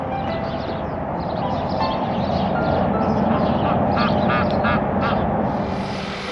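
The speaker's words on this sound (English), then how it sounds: "Like the ducks out there on the lake or river." Ducks quack repeatedly on a lake on a frosty morning, a steady run of close, fairly loud calls over a constant low rumble of background noise.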